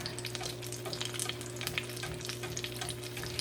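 Alcapurrias frying in hot oil, an even close-up crackle and sizzle with scattered bright pops over a steady low hum, no voices.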